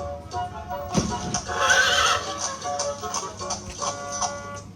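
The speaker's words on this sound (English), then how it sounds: "soon a sparkling coach arrived with 8 beautiful horses, decked with plumes of feathers and a golden harness" Horses of a sparkling coach team, eight strong with feathered plumes and golden harness, neigh and whinny loudly over steady clip-clopping hooves as the coach arrives, the whinny peaking in the middle before the hoofbeats carry on.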